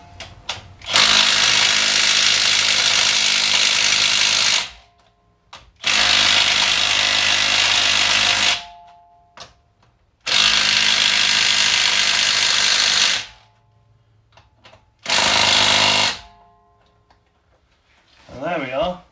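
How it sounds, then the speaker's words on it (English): Torque sticks driving the wheel nuts on a new Land Rover Defender with a power tool, four loud sustained bursts of a few seconds each separated by pauses, with light clicks between them. "The way you know these torque sticks are tight is that this lettering on the socket does stops moving."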